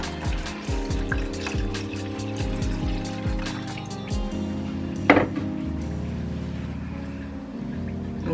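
Water pours steadily for several seconds into cornstarch and lemon zest for lemon meringue pie filling, with a liquid gurgle, a brief splashy burst midway, and a low hum underneath.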